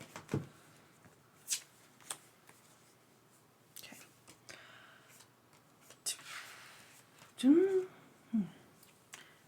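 Pokémon trading cards being shuffled and handled during a tabletop match, soft papery riffles and flicks scattered across the clip, with a brief louder burst near the end, faint and close.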